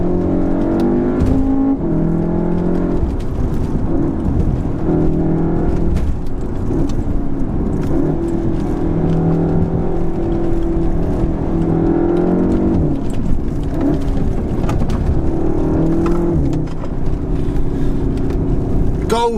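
Volkswagen Golf R engine droning steadily from inside the cabin while driving, with rising and falling revs as it accelerates, a constant close hum throughout.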